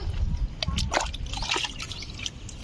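Liquid peanut cake fertilizer is poured onto amaranth plants in a garden, a brief close trickle and splatter of liquid with soft drips hitting the soil and leaves.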